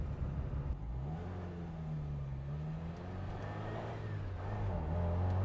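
A classic Ford Mustang engine roars steadily nearby, its low drone rising and falling in pitch as it revs and pulls.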